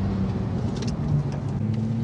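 A 2021 Porsche 911 Turbo S engine runs loud and close on a track with a steady low drone, the revs rising and falling slightly, no voices.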